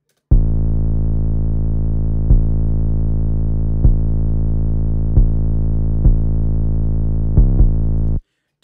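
Trap 808 bass made in FL Studio with Trash 2 multiband distortion on its mids and highs, a loud, sustained, gritty low tone running through seven long hits in a steady rhythm that shifts pitch, the last two close together.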